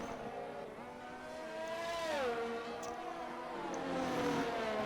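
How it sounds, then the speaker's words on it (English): A race car lapping the Bahrain circuit in a racing video game: a quiet, continuous engine whine climbs and drops with the gear changes and carries on steadily. "Hambo will be starting to pick up the pace in the car now"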